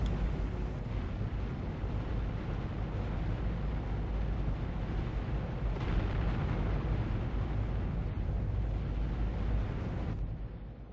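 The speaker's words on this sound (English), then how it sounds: "With Leviathan destroyed, now it's time to go after Black Manta" The Leviathan is destroyed in the Aquaman Xbox game with a continuous, heavy roar of explosions and rumbling underwater blasts. The sound holds at steady loudness for about ten seconds, then drops off at the end.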